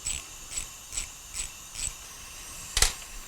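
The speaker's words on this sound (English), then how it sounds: "Reverse direction on ratchet and release tension on both springs on both valves." Ratchet clicking on a valve spring compressor tool used on a BMW N63TU engine, five evenly spaced crisp clicks followed by a louder sharp click, close and quiet.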